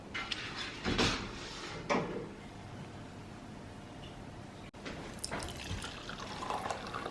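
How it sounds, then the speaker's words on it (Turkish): Detox juice being poured into a glass in a home kitchen, with a few soft splashes and liquid trickles, close and fairly quiet, with no talking. "Detoks suyu da hazır. Şimdi onu bardağa dökeceğim"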